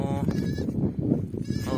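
Goat kids bleat out in the open on a pasture, wavering cries at the start and again near the end, close by, with a person talking over them and faint outdoor noise beneath.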